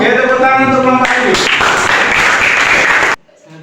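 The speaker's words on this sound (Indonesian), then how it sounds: "tepuk tangan untuk kelompok Ayu." A class gives a student group a short round of clapping. It swells loud and close after a brief stretch of voice, then cuts off sharply into near quiet.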